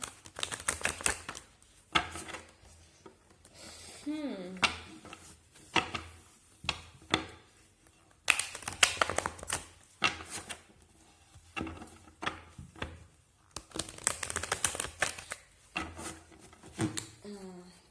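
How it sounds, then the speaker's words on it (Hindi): Tarot cards are shuffled in repeated quick papery bursts of riffling and tapping close up, with brief pauses between rounds and a voice heard briefly. "एक बार और शफल करूंगी मैं"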